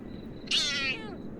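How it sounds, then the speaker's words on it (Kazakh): A single clear cat meow, drawn out and rising then falling, close by over a quiet background. "Мына мышық не болды?"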